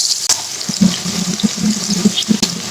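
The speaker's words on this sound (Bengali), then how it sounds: "এখন আমি দিব এক মুঠো পেঁয়াজ কুচি" Chopped onion sizzling in a pan with dried fish, a steady close frying hiss with small bubbling crackles throughout, no voices.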